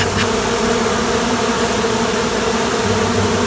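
A dense, loud buzzing of a honey bee swarm fills the air continuously and close by, with a steady drone and no voices.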